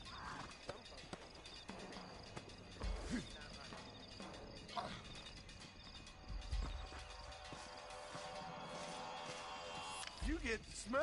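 Horse hooves clip-clopping in the Red Dead Redemption video game, a steady run of thuds under a dense layer of game sound, with a rider's voice briefly heard.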